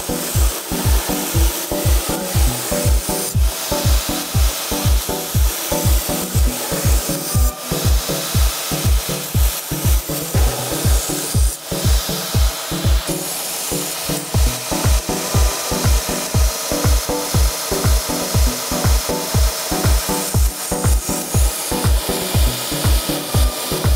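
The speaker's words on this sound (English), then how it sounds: "Quickly grind on a 120 grit belt the front of the knife" A belt grinder on a 120 grit belt grinds the front of a knife blade, making a loud, steady rasping scrape with a fast, even rhythmic pulse. It runs alone throughout.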